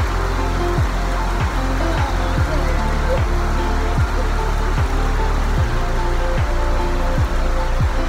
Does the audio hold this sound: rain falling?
yes